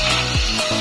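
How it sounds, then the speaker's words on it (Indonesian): Hard resin on a forged carbon piece being sanded by hand, a steady close scraping rub that swells and fades in short strokes. "Jadi amplas ke permukaan media atau kita cari medianya yang terlalu menonjol resinnya yang keras ini. Kita amplas perlahan seperti ini."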